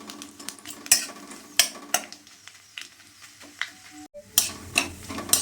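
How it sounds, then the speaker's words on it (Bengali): Dry red chillies, ginger and nigella seeds frying in a pan with a soft sizzle, punctuated by sharp, irregular scrapes and knocks of a spoon as the mix is stirred close up. "দিয়ে ভালো করে নেড়ে নিলাম যতক্ষণ না লঙ্কাগুলো আদা ভাজা হচ্ছে"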